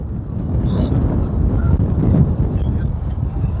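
Strong wind atop Galata Tower in Istanbul buffets the microphone in a loud, steady, low roar that gusts unevenly throughout, with no clear speech.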